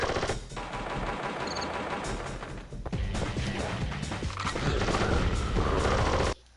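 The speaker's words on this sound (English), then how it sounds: "He's got guns." Enemy guns firing in Sly Cooper and the Thievius Raccoonus, dense rapid bursts of machine-gun fire with crashes and impacts, loud and sustained, then cutting off abruptly near the end.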